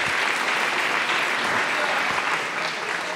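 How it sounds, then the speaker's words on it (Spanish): Loud, dense applause fills a church as the congregation claps continuously for a few seconds, a close, steady roar of hands with a slight dip near the end. "Denle un aplauso al Señor"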